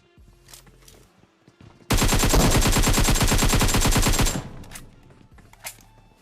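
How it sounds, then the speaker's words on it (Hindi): Video game gunfire from a tower bursts out as a loud, close, sustained automatic stream of rapid shots lasting a few seconds, with quieter game sounds before and after. "कोई टावर में खड़े होके गोलीबारी कर रहा है"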